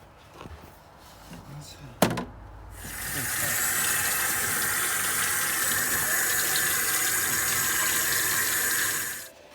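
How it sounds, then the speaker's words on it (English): Water from a tap rushing steadily over the airbox of a GMC Yukon as it is rinsed, a loud continuous splashing spray after a sharp knock and brief handling noises. "after washing the airbox, got it clean enough, got all the big debris out of it"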